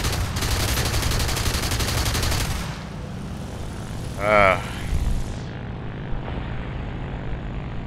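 Propeller aircraft engine drone in War Thunder, a Fw-190 fighter, with a rapid burst of friendly machine-gun fire rattling through early on, then the engine tone shifting and fading, with a short whistle-like sweep midway.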